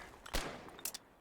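Gunfire in the Foxhole war game, a few sharp separate shots in a short burst over low background noise.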